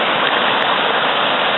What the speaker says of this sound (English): waterfall action going on over there